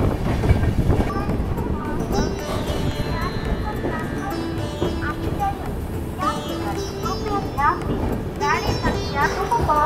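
Passenger train running in India near a large salt water lake, a continuous rumbling roll with faint rhythmic rail clatter heard from on board, while people, including a child, talk over it.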